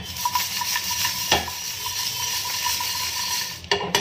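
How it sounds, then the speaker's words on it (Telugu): Whole spices such as mace and nutmeg for biryani masala are stirred and dry roasted in a pan on a low flame, giving a steady close scraping rustle with a few light clinks and no talk. "సో వీటన్నిటినీ మనం చక్కగా రోస్ట్ చేసుకుందాం."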